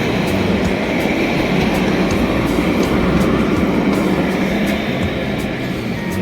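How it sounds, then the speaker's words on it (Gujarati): A train in Israel runs loudly past at close range, a continuous roar with regular rhythmic clacks of wheels over rail joints throughout. "આ છે ટ્રેનના પાટા અને આ છે ટ્રેન."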